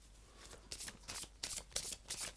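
Oracle cards riffled and shuffled by hand for a cross-shaped tarot spread, a series of close, crisp papery bursts in quick irregular rhythm, fairly quiet and with no talking.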